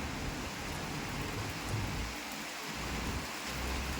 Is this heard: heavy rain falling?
yes